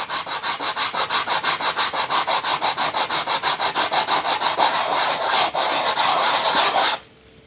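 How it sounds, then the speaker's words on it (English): A part of a Paillard Swiss radio cabinet, model 3610B, is sanded by hand with sandpaper, a steady rhythmic rasping of quick back-and-forth strokes, close and fairly loud, stopping abruptly near the end. "I'll try and sand that smooth and level with the original profile."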